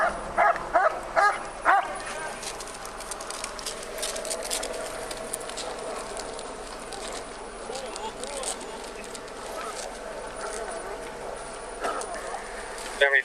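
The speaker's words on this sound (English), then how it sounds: "We're going to initiate the dog deployment now." A police dog barks and yips during a deployment on a suspect, the barks coming in short bursts over a noisy outdoor scene with people talking.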